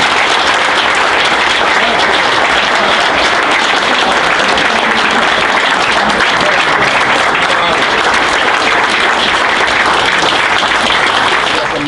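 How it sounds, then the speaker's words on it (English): A large audience applauds Cathy Hughes at an event: dense, steady, loud clapping that carries on for the whole stretch without a break. "Can we give her one more applause and bring her to the stand, please?"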